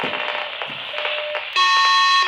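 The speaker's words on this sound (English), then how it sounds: "The beeping was me pressing the switch here." A small handheld radio gives off electronic tones from a switch press, first a buzzy warbling signal and then a steady, louder high-pitched beep near the end.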